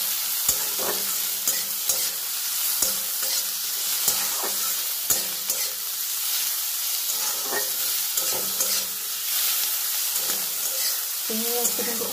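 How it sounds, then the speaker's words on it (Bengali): Prawns coated in salt and turmeric fry in a pan with other ingredients, giving a steady moderate sizzle broken by repeated sharp scrapes and knocks of stirring. "চিংড়ি মাছটা অ্যাড করে দিয়ে সব কিছুর সঙ্গে একটু ভাজা ভাজা করে নেব।"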